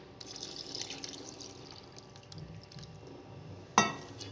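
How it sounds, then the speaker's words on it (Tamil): Tamarind water is poured into a pan of rasam with sautéed tomatoes, a faint, soft trickle followed by one sharp splash near the end. "இப்போ நம்ம புளி தண்ணியை சேர்க்கலாம்."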